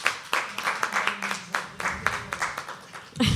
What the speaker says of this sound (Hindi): बड़ा एक और बार ताली बजाएंगे हम रणमल के लिए।